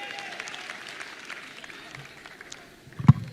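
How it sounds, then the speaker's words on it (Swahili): Crowd applause at a political rally, scattered clapping heard from a distance at low level, with a brief louder burst near the end. "Makofi kwa mheshimiwa tena."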